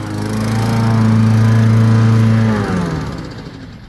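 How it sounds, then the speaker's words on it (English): A small lawnmower engine runs steadily and loudly up close, holding a constant drone before winding down and fading out near the end. "Here is my lawnmower."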